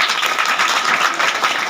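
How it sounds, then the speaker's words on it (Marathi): An audience of teachers and staff applauds their wives at a school gathering, a steady, dense wash of many hands clapping at once, loud and continuous with no gaps. "सगळ्यांनी, सगळ्या शिक्षक असतील, मामा असतील, त्यांच्या पत्नीसाठी टाळ्या वाजवतात"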